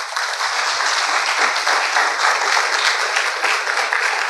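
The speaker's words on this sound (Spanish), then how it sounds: "denle un aplauso poderoso a Jesús" A church congregation applauds together in dense, sustained clapping that holds steady and loud for several seconds, filling the room evenly with no voices standing out.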